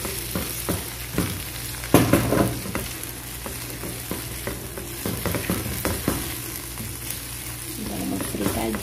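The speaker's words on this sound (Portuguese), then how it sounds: "Dá uma fritadinha. Vou deixar aqui dar uma fritadinha." Shrimp seasoned with garlic and salt frying in a pan, a close, continuous sizzle with repeated scraping stir strokes and a louder burst around two seconds.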